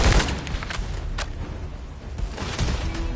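Sniper gunfire in The First Descendant video game: a sharp loud shot at the start followed by a dense rattle of continuous gunfire and impacts, with a brief dip and another burst of shots near the end.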